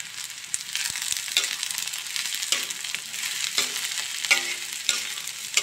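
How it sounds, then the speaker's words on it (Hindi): Spiny gourd (kakoda) frying with onions in a pan, a continuous close sizzle broken by several stirring scrapes and clatters of a spoon against the pan. "और अब मैं डाल दे रही हूँ ककोड़े जो मैंने भून के रखे हैं।"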